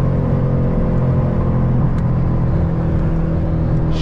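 Mercedes-AMG twin-turbo V8 of about 500 hp pulls hard under acceleration, a steady loud engine drone and rumble heard from inside the cabin, continuous for the whole stretch with no talking.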